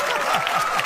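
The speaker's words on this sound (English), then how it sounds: "So please give this next gentleman a warm round of applause" Audience applause and clapping for a comedian being welcomed onstage at a comedy show, a dense steady patter of many hands filling the room at close range, briefly and without any spoken voice.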